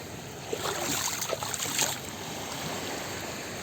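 Water splashes and laps steadily around a floating Decathlon ITIWIT 10-litre waterproof bag being pushed through small waves, close by and continuous, with a few sharper splashes early on and no talking.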